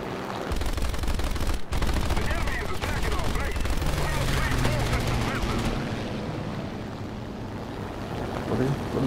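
Rapid P-47 machine-gun fire raking a bomber in a flight combat video game, a dense, continuous loud rattle of gunfire with engine roar lasting most of the stretch, briefly cut near the start, easing slightly toward the end.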